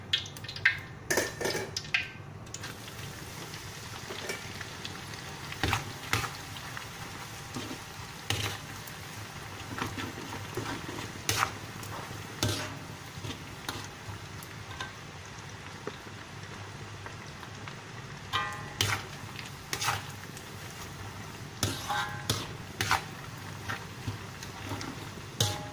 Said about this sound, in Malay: Kita goreng ikan bilis tabur pula.